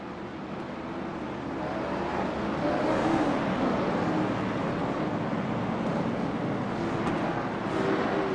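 A field of late model race cars circulates on track in a sim racing league event, producing a dense, continuous engine roar that swells slightly and holds steady without any voices.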